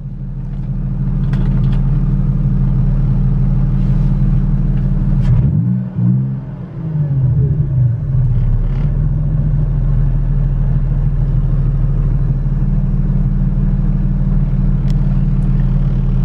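A BMW E30 engine idles with a steady low rumble close by, dipping briefly once before settling back into an even hum.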